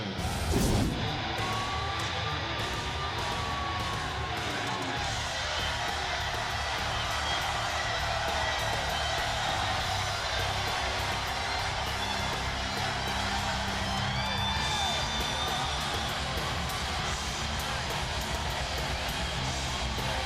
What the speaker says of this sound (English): The crowd, they're going crazy.